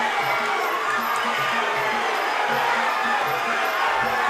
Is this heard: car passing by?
no